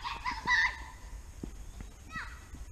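A rooster clucks and gives a short crowing call outdoors while children shout and play nearby, the bird fairly faint and brief among the voices.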